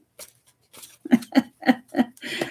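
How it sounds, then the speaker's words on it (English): Tarot cards being shuffled by hand, a short run of soft papery riffles and taps, the middle four landing as even, evenly spaced flicks before a longer rustling burst at the end, close and fairly quiet. "let me shuffle real quick."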